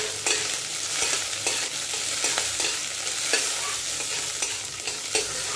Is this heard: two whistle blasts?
no